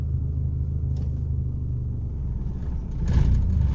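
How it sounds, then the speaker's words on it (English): A Dodge Neon SRT4 idles with a low, steady rumble during a fourth-gear clutch test, then the engine lurches and stalls near the end with a brief shudder. "see how the car stalled out?"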